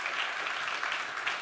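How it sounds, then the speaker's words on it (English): An audience at a startup event claps steadily through a brief burst of applause for a speaker, a dense, even patter with no voices over it. "Guys, a round of applause,"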